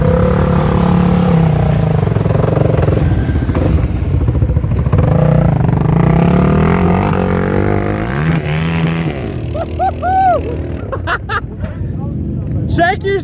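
A Polaris Outlaw 525 sports quad with a KTM engine ploughing through mud, its engine droning loud and close with revving surges, clatter and splashing, while voices chatter over it.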